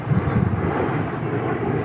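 A Kootai Ki84 Japanese warbird, a sub-250 g micro RC plane, flies overhead with a steady, continuous electric motor and propeller drone at moderate loudness, holding an even pitch with no pauses.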